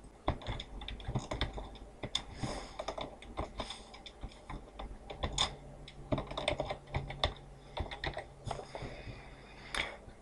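Fingers type a username and password on a computer keyboard, a quick, uneven run of crisp key clicks with short pauses between bursts, close and alone without speech.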